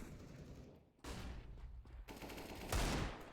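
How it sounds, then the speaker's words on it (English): Faint, distant gunfire in a competitive Counter-Strike match, with a few separated shots and bursts spread over several seconds, one louder crack near the end. "Exotic responding though with a nice scout headshot there on the Lowrider"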